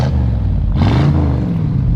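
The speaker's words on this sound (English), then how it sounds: "Go ahead and rev it up back here. It sounds nice." A 1973 Ford F350 Super Camper pickup with a 390 FE V8 revs from behind the truck, a loud low rumble that rises in pitch mid-clip and then settles back, no voices.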